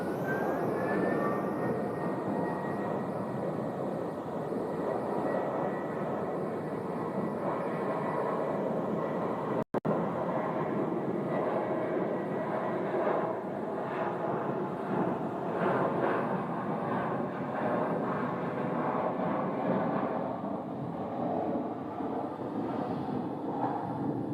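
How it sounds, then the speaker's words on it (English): A Southwest airliner is pushed back from the gate at Phoenix airport, its engines producing a steady, loud whooshing rumble that persists throughout. "There'll be a southwest pushback right there"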